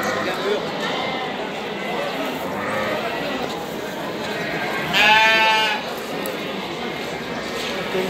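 Sheep and lambs at a livestock market, with one clear bleat standing out midway over a dense crowd murmur and ongoing talk.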